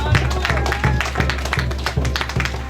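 An audience at a funeral service applauds a woman coming up to give a tribute, with steady clapping over a low droning hum and a faint voice underneath.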